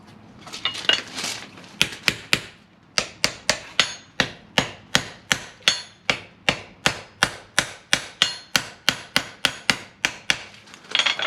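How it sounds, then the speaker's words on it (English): Rivets are hammered to fix pads onto a heavy rolled-toe horseshoe. A fast run of sharp, close metallic hammer strikes falls in a steady rhythm of about two blows per second, each with a short ringing decay and no talking. "Put our rivets in for our pads."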